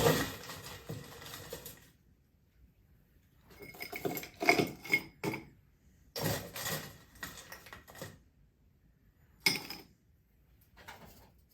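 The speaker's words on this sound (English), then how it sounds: "we take our old-fashioned glass. We're going to fill that with crushed ice" Crushed ice rattles and clinks into an old-fashioned glass while a cherry whiskey smash is made, arriving in several bursts of chunky clatter separated by quiet pauses.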